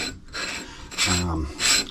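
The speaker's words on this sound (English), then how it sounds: "I'll just give it a bit of a tap around the top there" Rasping, scraping metallic taps on the top of a Phoenix power steering part being worked on, heard as a few close bursts of harsh noise separated by short pauses, with no talking.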